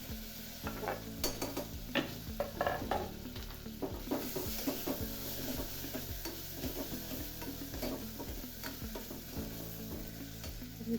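Tomatoes with peas, ginger-garlic-coconut paste and spices frying in a pan, a steady soft sizzle under repeated rhythmic scraping strokes of a spoon stirring, close and fairly quiet.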